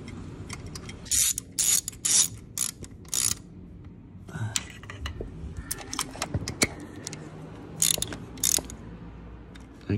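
A tension wrench working on a bolt, giving close, irregular ratcheting clicks and metallic clatter in short bursts with pauses between them.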